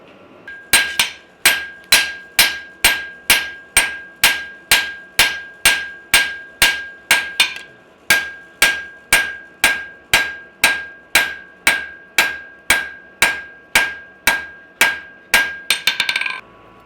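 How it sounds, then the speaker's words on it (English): A hammer strikes hot knife steel on an anvil during blacksmith forging, roughly two dozen loud, ringing blows in a steady even rhythm, with one brief pause midway and a flurry of quicker taps at the end. "you're compressing it between the hammer and the anvil"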